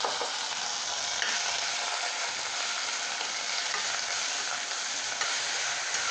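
Grated bottle gourd sautéing in oil with cashews and raisins gives an even, steady hiss of frying that stays close and unbroken throughout, with no voices.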